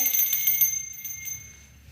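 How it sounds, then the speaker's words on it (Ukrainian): A small bell on a lamb jingles in quick repeated shakes, bright and close, then fades to lighter tinkles with a sustained ringing tone. "Весело бекало і бринькало дзвоником"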